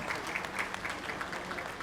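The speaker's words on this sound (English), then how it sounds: "Another round of applause, distinguished guests, ladies and gentlemen." Guests at a business and cultural day event give a round of applause, a steady patter of many hands clapping at moderate distance without pause.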